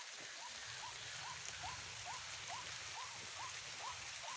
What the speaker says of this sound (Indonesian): soalnya hujan